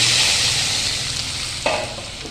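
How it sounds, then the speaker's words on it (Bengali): Bottle gourd greens and mung dal are tipped into a hot tempering of cumin and radhuni in a pan, setting off a loud sizzle that slowly eases, with a brief clatter midway. "ফোড়নটা ভাজা হয়ে গেছে আর এর মধ্যে আমি দিয়ে দিচ্ছি লাউ শাক আর ডাল"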